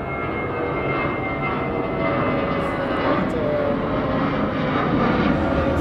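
A low-flying airplane on landing approach roars steadily overhead in a residential area under an airport flight path, loud and sustained throughout.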